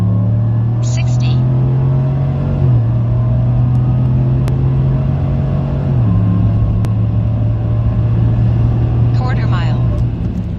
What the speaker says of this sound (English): We just did a couple 0 to 60 runs and a quarter-mile run